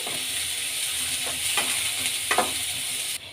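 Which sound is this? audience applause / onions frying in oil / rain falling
onions frying in oil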